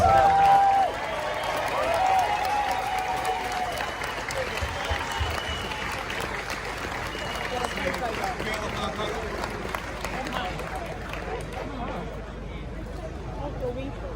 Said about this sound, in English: please give a massive, massive round of applause for Elizabeth Harper